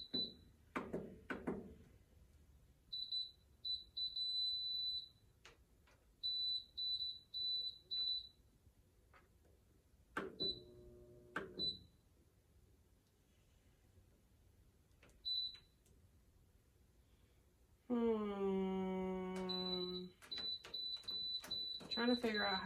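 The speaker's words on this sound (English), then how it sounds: "That loud beep, anytime I turn it, it makes that loud beep." A PYD Life sublimation oven beeps loudly in repeated short bursts each time its control is turned, clusters of sharp high tones between pauses, with a longer run of beeps at the end and a person talking at times.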